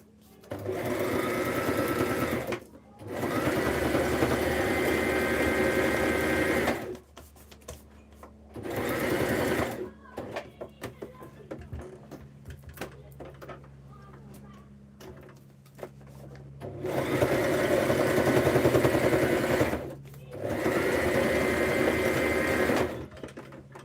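A sewing machine stitches through a handmade junk journal in two long bursts, stops for a quieter stretch with small clicks and handling noises, then runs in two more steady bursts.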